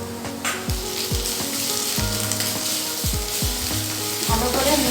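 Ginger and garlic paste fry in hot oil in a pan, giving a bright steady sizzle broken by repeated spatula scrapes and knocks in an uneven rhythm.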